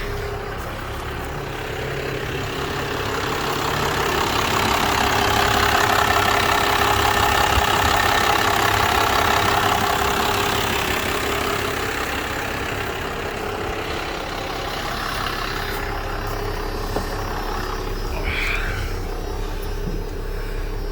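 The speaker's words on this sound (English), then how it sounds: "Let you guys listen to the engine." A Cummins diesel engine idles steadily in a running vehicle, a continuous low rumble with a broad mid-range hum holding at an even, moderate level throughout, no voices over it.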